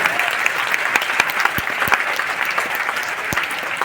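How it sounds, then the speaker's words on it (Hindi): A college audience at Hindu College applauds for the students' parents during a motivational talk, with dense, steady clapping throughout at full volume and no voices on top. "पेरेंट्स के लिए ताली बजाओ"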